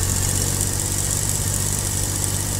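In Farming Simulator 22, a Swaraj 855 tractor stuck in a ditch strains with a steady, constant engine drone and a low hum, unchanging and continuous throughout.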